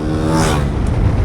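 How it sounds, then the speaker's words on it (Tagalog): Motorcycle engine revving hard as it speeds up at a crossing in Pilar, Sorsogon, a loud steady roar with a scraping edge that holds throughout the short stretch. "Pumersa na yung motor."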